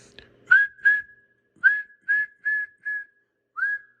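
A person whistles a series of short, steady tones, about seven notes with brief pauses between them, close and clear, into a Central Electronics 100V transmitter to trigger its voice-operated circuit.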